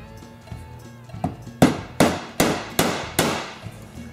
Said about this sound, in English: You just tap that right back in there. Let me get a hammer, hold on.